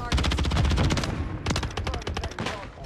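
Rapid bursts of gunfire in a first-person shooter game, with dense overlapping shots for about a second, a short gap, then more staccato bursts, loud and close.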